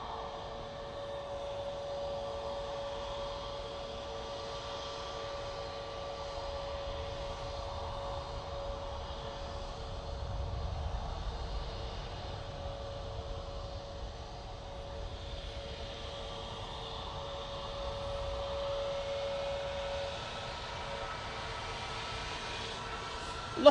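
An Airbus A320neo jet takes off from Manchester Airport bound for Munich as a distant, steady engine rumble and hiss carrying a faint sustained whine, holding level for over twenty seconds.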